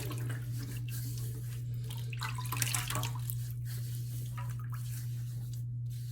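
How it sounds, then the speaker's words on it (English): Water splashed and rubbed over a head before shaving, a continuous wet sloshing and trickling close by over a steady low hum, with no talking. "Let me wet my head."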